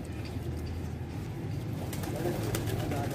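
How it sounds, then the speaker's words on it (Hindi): Soft, low cooing of pigeons murmurs steadily throughout, with a few faint rustles and background noise but no talking. "अभी आप लोगों को अपने कबूतर भी दिखाता हूँ जो बैठे हुए हैं"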